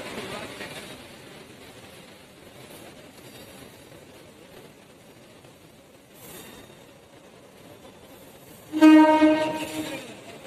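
A train rumbles faintly at a distance at a Mumbai railway station, and near the end a loud, sustained horn blast rises sharply above it.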